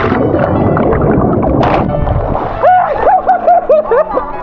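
Someone jumps into a flowing river on a rainy day, a loud rushing splash giving way to bubbling gurgles underwater, close and messy, with wind noise on the microphone.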